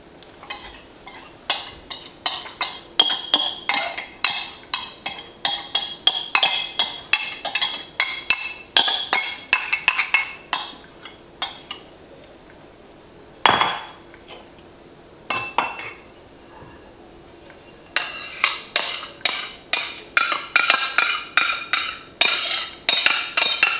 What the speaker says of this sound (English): And then really I just dump it all together.